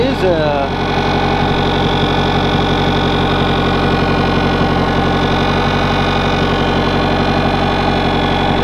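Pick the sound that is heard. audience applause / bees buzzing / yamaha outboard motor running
yamaha outboard motor running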